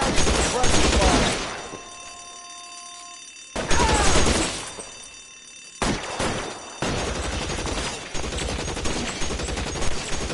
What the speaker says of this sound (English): I'll lay down some suppressor fire